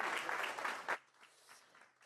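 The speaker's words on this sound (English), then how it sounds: "Please take a seat here and another round of applause." Audience applause at a data governance showcase, a brief burst of dense clapping that cuts off abruptly after about a second, leaving quiet room tone and faint voices.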